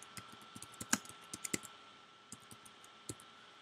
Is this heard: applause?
no